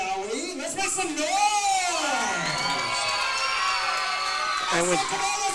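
Crowd at an independent pro wrestling anniversary show cheering, whooping and yelling in a large hall, sustained roar with rising shouts from individuals, loud and close, with an announcer's voice briefly over it.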